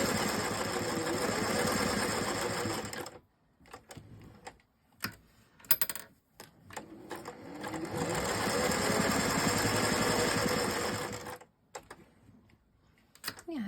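A sewing machine stitches fabric for jar helpers in loud, rapid bursts, close up. Brief pauses between the runs are filled with small mechanical clicks.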